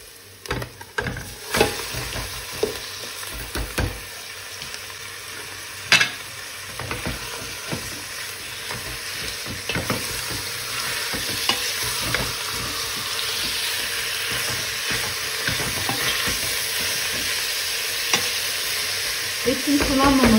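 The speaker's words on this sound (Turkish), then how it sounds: "Kavrulan soğanımın üzerine kuşbaşı etini ilave ediyorum." Diced beef sizzles and fries over high heat on top of sautéed onions, with a steady hiss throughout and repeated knocks and scrapes of stirring, loud and close with no talking.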